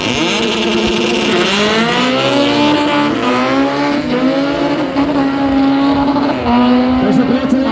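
Drag racing car powered by a Honda H22 engine taken from an Accord Type R, revving loudly and continuously at a Slovakia Ring car drag event, rising and falling engine pitch, with crowd and commentary voices underneath.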